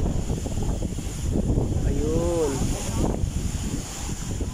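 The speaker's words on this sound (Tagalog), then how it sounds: "Lakas ng hangin dito sa taas" Strong wind blowing across an open hilltop at Culasi, Ajuy, Iloilo, a steady broadband rush and buffeting close to the mic, with a brief voice speaking midway.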